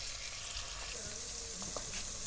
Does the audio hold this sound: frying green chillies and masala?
yes